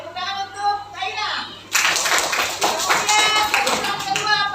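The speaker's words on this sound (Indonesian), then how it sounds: "tepuk tangan untuk Zaina" Schoolchildren in a classroom break into clapping for a classmate, a burst of close, uneven hand claps that follows a teacher's voice and carries to the end.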